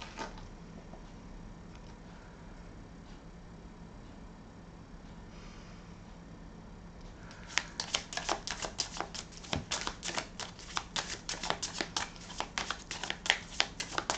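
Oracle cards for a reading are shuffled close by: a quiet stretch gives way to a rapid run of crisp riffling clicks and slaps that continues steadily to the end, with no voices.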